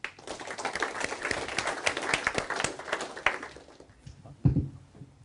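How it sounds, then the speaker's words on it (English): A seminar audience at a sales-messaging training session gives a round of applause: dense, crowded clapping that holds steady for about three seconds, then thins into a few scattered claps and one louder thump near the end. "Round of applause."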